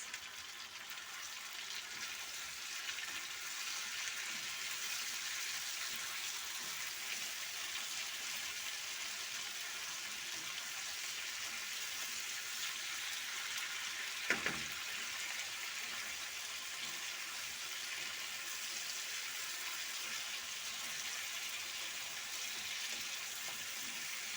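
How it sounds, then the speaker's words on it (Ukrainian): Steady broadband sizzle of food frying in pork lard, continuous and fairly close, with one brief sharp click partway through. "Смажу на свинячому смальці."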